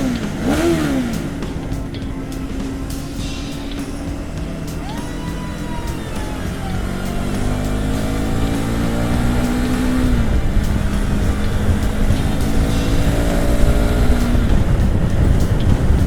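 A KTM 390 Adventure motorcycle engine drones and revs up and down repeatedly, loud and echoing inside a road tunnel, with shifting pitch over a rushing roar.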